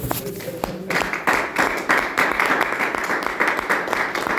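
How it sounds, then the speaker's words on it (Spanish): Church congregation applauding the Lord during a Spanish-language sermon, a dense wash of clapping rising after a brief pause and holding steady, with voices mixed in. "Dale un aplauso al Señor."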